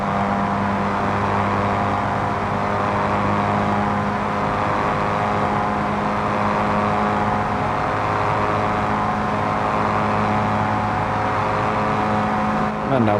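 Car engine in BeamNG droning at high revs, loud and steady with a constant tonal hum, no clear shift break until a slight dip near the end.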